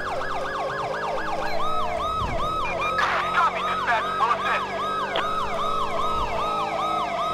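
A Chicago-style police siren in the video game GTA V wails loudly and close, cycling rapidly up and down throughout, with engine noise beneath and no speech.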